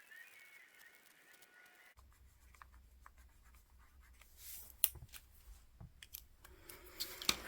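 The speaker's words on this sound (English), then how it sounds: "I'm gonna go ahead and write the rest of this" A pen scratches faint, soft strokes as someone writes by hand in a journal in a quiet room, growing slightly louder and busier toward the end.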